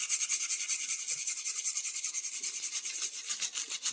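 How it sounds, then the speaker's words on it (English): A rusty knife blade being rubbed down by hand, a steady, close, rapid back-and-forth scrubbing rasp that keeps an even rhythm throughout with no talking. "So I'm just giving it a general rub down, loosen up what rust we've managed to loosen up here."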